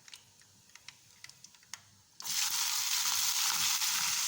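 Small onions drop into hot oil for tempering a country chicken curry, and a loud, steady, bright sizzle starts abruptly after a few faint clicks and continues close by without any talk.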